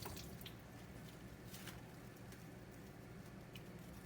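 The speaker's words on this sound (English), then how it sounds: "So you just take some warm water, run over it, and then it quickly breaks apart" Warm tap water runs steadily over frozen vegetables on a tray, a constant close hiss of flowing water with faint splashes and clinks.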